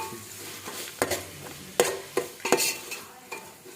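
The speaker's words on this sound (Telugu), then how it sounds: "అడుగంటకుండా మాడకుండా కలుపుకోవాలి" Salted tomatoes and green chilies cooking down in a pot for bagara rice are stirred with a spoon. A handful of sharp scrapes and knocks sit over a low simmering sizzle, with no voices.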